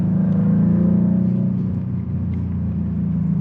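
A 2024 Maserati GranTurismo Trofeo's six-cylinder engine drones with a deep, steady rumble from inside the car while driving, holding a strong low tone that dips briefly midway, with no talking over it.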